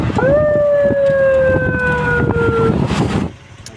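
A police vehicle siren wails loudly in a long, steady tone that sags slightly in pitch and cuts off after about two and a half seconds, over a noisy street background.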